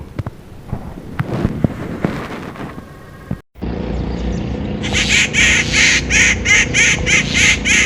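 Birds call noisily in a rapid, repeated chatter at a perched owl, loud and close, after a quieter stretch of scattered outdoor noises.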